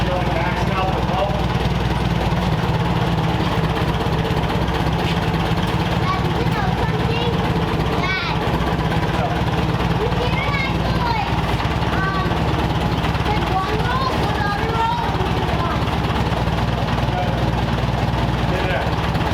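Forklift engine running steadily in a car storage building, a continuous low drone with voices talking over it throughout.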